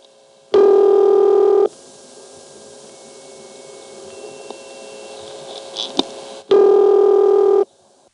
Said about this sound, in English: a series of tones that cycle over and over